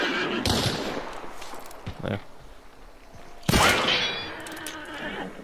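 Gunfire in the video game Hunt: Showdown: a few sharp, loud shots, including a strong crack about two-thirds through, set against a noisy outdoor background, with a person briefly talking nearby.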